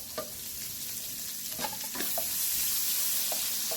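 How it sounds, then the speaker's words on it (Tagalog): Onion and garlic sautéing in a pan sizzle steadily up close, with occasional scrapes and clinks of stirring and the frying growing louder toward the end. "Tapos pagigisa na ako. Sibuyas, bawang."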